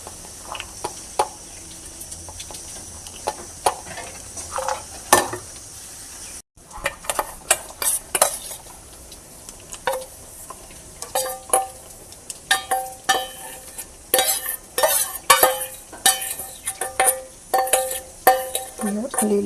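Dried Sichuan pepper (timur) is tipped and scooped into a small storage container, giving scattered close rattling clicks and small clinks of grains and utensil in irregular bursts, busier toward the end, with no talking.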